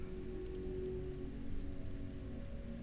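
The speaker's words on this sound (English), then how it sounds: "I love a rainy night." Steady rain at night in the video game World of Warcraft, a constant soft patter over a low hum with a faint sustained tone, no voices.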